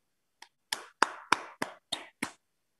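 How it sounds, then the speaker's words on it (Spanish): Seven sharp, close handclaps ring out one at a time in a hybrid preschool lesson, evenly paced with brief silence between them. "le damos un aplauso a Armando."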